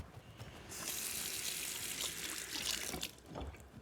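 Fruit is rinsed under a running kitchen tap, a steady close gush of water splashing for about three seconds before it tapers off, with no talking.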